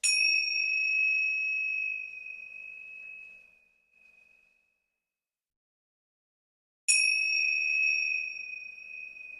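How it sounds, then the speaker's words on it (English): Two loud, bright bell-like dings ring out during a shamanic healing session, the first sustaining for a few seconds and fading into silence before a second strike rings again. "These will be loud dings, so if you're listening in headphones, please be advised."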